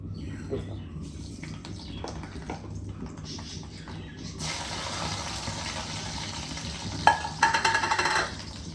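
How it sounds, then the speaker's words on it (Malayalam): Mustard seeds and fenugreek seeds dropped into hot oil, starting as light clinks and stirring, then a broad steady sizzle swells midway with a few sharp crackles and pops near the end. "എണ്ണ ചൂടായി. ഒരു സ്പൂൺ കടുക്, ഒരു സ്പൂൺ ഉലുവ."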